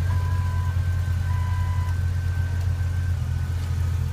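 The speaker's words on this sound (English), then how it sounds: "Go ahead and start the truck up." A lifted Jeep Cherokee XJ engine idles with a steady, loud low rumble, close by, while a couple of faint thin electronic tones sound over it for a few seconds.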